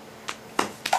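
A toddler makes three light, sharp hand claps spaced apart, close by and quiet, with no talking.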